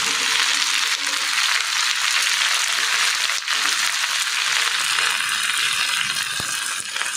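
Okra tossed into hot oil with browned onion and garlic sizzles loudly and steadily in a pan, close and continuous, with a brief clink near the end and no talking.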